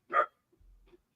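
A dog gives a single sharp, close bark, followed by a brief faint low rumble in an otherwise quiet room.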